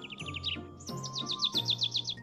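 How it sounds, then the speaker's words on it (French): A cartoon bird from a French-dubbed Hello Kitty Paradise episode chirps in two quick runs of bright, high tweets, a short burst followed by a longer, louder rhythmic series, heard alone and close. "L'oiseau vole de nouveau."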